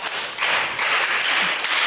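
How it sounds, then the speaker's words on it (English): A crowd claps for a student in a brief, full burst of hand clapping, dense and close, with a slight dip and then steady clapping to the end. "Clap your hands for him."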